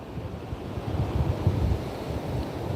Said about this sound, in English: We are out here at the Atlantic Ocean, feeling the ocean breeze come in